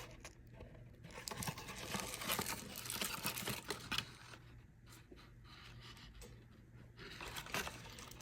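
Thin Bible paper being folded and crinkled by hand, a close, soft run of crackling and rustling that comes in uneven bursts with brief quieter gaps, no talking.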